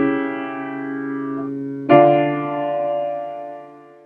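A leading tone chord resolving to its target chord on a keyboard-like instrument: one sustained chord holds, then a second chord strikes firmly and rings out before fading, with no talk.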